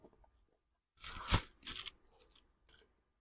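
Crunchy kimchi being chewed alongside rice, a single loud crisp bite followed by a few softer crunches, close to the mouth in an otherwise quiet room.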